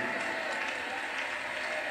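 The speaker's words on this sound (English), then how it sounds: "Clap your hands and give God the glory." Congregation clapping hands together during a church service, a steady dense wash of applause filling the room for the full stretch, with no voices over it.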